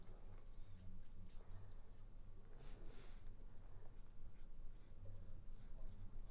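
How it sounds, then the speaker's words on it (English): An alcohol marker with a brush nib makes light strokes on paper to suggest hair, giving soft, close, repeated scratchy swishes over a low steady hum. "just some very light brush strokes just to give the illusion of hair"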